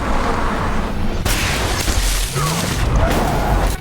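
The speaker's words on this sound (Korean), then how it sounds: "커다란 총성과 함께 날아온 총알은 중무장된 차량의 운전석과 조수석을 뚫어버립니다" A loud, sharp sniper rifle gunshot cracks out, followed by a heavy booming rumble and echoing blasts under tense background noise.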